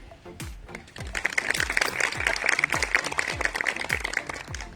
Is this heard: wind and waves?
no